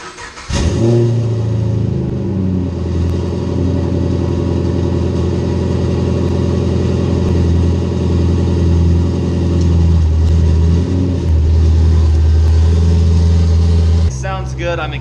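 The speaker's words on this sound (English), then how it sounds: "fire it up to get you guys a cold start" A turbocharged Chevrolet Camaro fires up from a cold start in winter, the engine catching with a sharp burst then settling into a loud, steady, rumbling high idle close by until it cuts off near the end.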